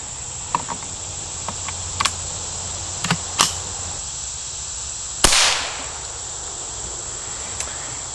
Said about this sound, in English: we're going to load up one round of the BPR and take our shot at the clay